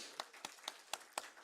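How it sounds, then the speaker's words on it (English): A live audience claps at a music event in Bhutan, five sharp isolated claps spaced evenly about a quarter second apart, fairly faint and close, with no crowd roar behind them. "give a big round of applause for yourself"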